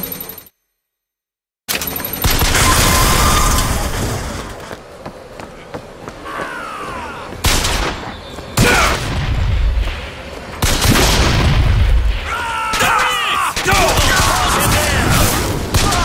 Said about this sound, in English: press to throw a fiery grenade